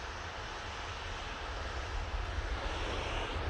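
An Emirates Airbus A380 arrives at Manchester Airport with a broad, steady jet-engine roar, loud and continuous throughout, with no voices.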